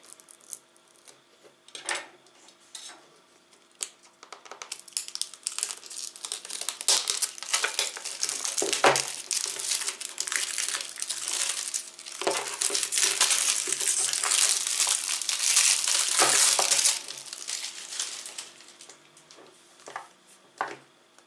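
A board game box is opened and its plastic packaging crinkles and crumples in bursts of crisp rustling, close and fairly loud, rising and falling over about twenty seconds with a few sharper clicks and no talk.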